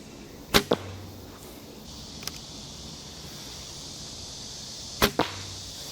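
Accmos pure carbon arrows strike an archery target in two pairs of sharp, loud thwacks several seconds apart, with a faint tap between them over steady outdoor background noise.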